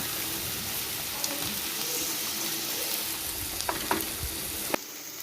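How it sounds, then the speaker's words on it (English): Finely chopped onions sizzle in a hot pan while being stirred, a continuous frying hiss broken by a few scraping and clinking stir strokes, then stopping sharply. "I have taken 4 big onions finely chopped. And stir it properly."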